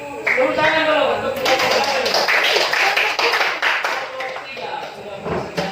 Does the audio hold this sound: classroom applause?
yes